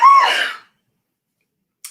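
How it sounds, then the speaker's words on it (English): A single sharp, loud human sneeze bursts out and cuts off quickly, followed by silence and a tiny faint noise at the end. "My sneezes are getting crazier."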